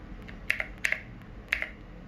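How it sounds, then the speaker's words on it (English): Small mechanical keys on a compact desktop speaker, pressed firmly to switch modes: three crisp, quiet clicks spaced about half a second apart in a quiet room. "you can push these little mechanical keys to switch to the different modes"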